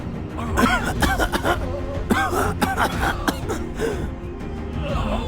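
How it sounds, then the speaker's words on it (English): Several short, rough coughs and throat-clearing bursts from animated cookie characters in Cookie Run: Kingdom, mixed with voice-like murmurs over a steady low background hum. "they're coughing up flour"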